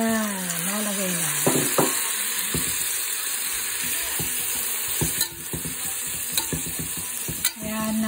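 Chopped tomatoes frying in a pan, stirred with a few scrapes and clatters of a utensil over a steady close sizzle, with no talking.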